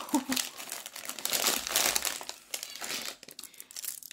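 Paper crinkles and rustles up close while a small Christmas basket is wrapped by hand, with steady crackling for several seconds that tapers off near the end.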